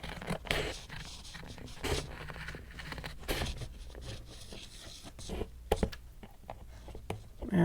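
Soft scraping and snipping of a blade or scissors trimming a paper edge on a handmade journal, close and quiet, with a few crisp cuts and light handling noises.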